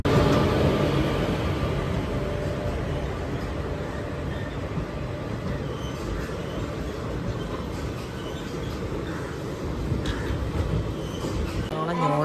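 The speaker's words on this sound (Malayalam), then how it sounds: "അപ്പം നമ്മൾ ട്രെയിൻ ഇവിടെ നിന്ന് മൂവ് ചെയ്യുകയാണ്." A passenger train rolls out of Ernakulam North railway station, its wheels giving a steady, close rumble and clatter that holds evenly throughout, ending with a brief louder jolt.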